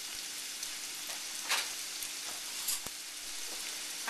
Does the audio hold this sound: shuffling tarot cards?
no